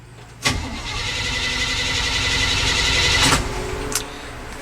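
A fuel-injected 427 car engine cranks with the fuel pump not running, a continuous close starter grind of several seconds between sharp clicks, without catching, and no talk.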